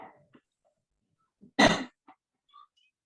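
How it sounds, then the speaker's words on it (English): A single sharp cough bursts out, brief and fairly loud, among quiet gaps and a few soft breaths and small noises. "Still you're coughing."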